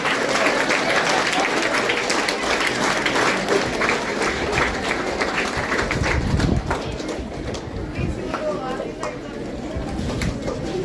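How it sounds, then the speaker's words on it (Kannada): Children applaud together at a Lions Club child-marriage awareness event in K.R. Pete: dense, steady clapping from a crowd that fills the whole stretch and eases a little toward the end. "ಎಲ್ಲ ಮಕ್ಕಳು ಚಪ್ಪಾಳೆಯ ಮುಖೇನ ಗೌರವಿಸಬೇಕಾಗಿ ಪ್ರಾರ್ಥನೆ"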